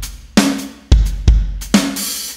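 Drums with reverb pre-delay set to 22 milliseconds in Ableton, a few loud kick and snare hits each trailed by a washy reverb tail, alone.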